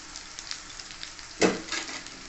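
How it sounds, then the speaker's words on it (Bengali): Crushed ginger and garlic hit hot oil with beans in a pan, a sudden louder burst of sizzling over a steady low crackle of frying, close by. "আমি আদা রসুন থেতো করে রেখেছি সেটা দিয়ে দিলাম"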